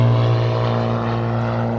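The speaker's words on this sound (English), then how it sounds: "Tried to catch the airplane" A propeller airplane flies overhead above an outdoor park yoga class, its steady low engine drone and harmonic hum continuing without break, loud and close, with no voices.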